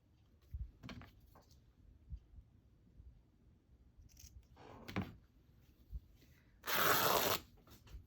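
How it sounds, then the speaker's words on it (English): Scissors cut paper for the inside of a handmade Christmas Little Golden Book, with quiet scattered snips and rustles followed by one longer, louder cutting stroke near the end. "I'm going to go ahead and cut another piece for the inside."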